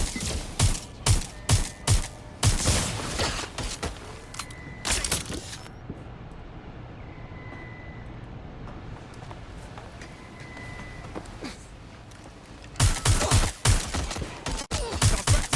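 Rapid gunfire bursts in the video game Watch Dogs Legion, loud, sharp automatic shots in clusters at the start and again near the end, with a quieter stretch of ambient rumble and faint tones between them.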